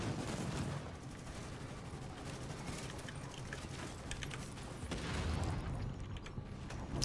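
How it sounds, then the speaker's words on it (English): Sustained rapid gunfire from a Hector turret in The Division during the Warrengate Power Plant mission, a dense continuous rattle of shots that swells toward the end, fairly faint and distant in the mix. "The Hector turret, watch out."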